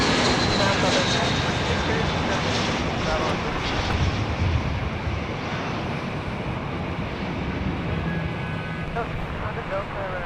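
A fixed-wing airliner touches down at Los Angeles International Airport, a loud sustained roar of engines and rushing air heard from a distance, with radio chatter and voices running underneath throughout.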